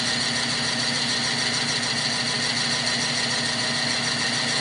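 A Nova 16/24 wood lathe turns a redbud blank at about 360 RPM. The motor hums steadily with a tool scraping against the wood, a continuous, even mechanical drone throughout, with no speech.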